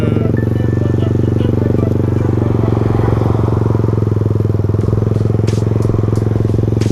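A Kawasaki KSR motorcycle engine runs at a steady, held throttle, a close, loud, continuous throbbing drone with faint clatter on top.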